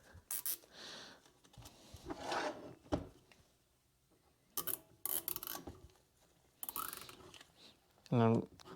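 Plastic zip ties being cinched tight around a parking brake cylinder, scattered close ratcheting zips and rubbing clicks in short bursts with quiet gaps between them.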